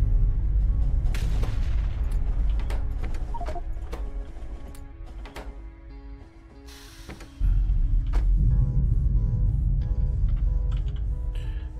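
Artillery stations firing shells in Factorio, a rapid series of sharp distant booms and thuds over a steady low factory drone, with a louder surge of rumble near the end.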